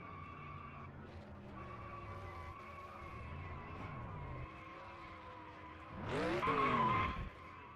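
Stock race cars in the NASCAR Racing 2003 game roar around Indianapolis with steady droning engine tones, then a loud tire squeal and skid rises near the end.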